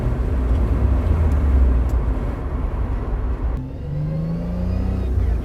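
A 1977 Toyota Celica RA28 with worn gearbox and differential seals drives under throttle, its engine and road roar steady and loud, while a thin tonal whine rises in pitch late in the run.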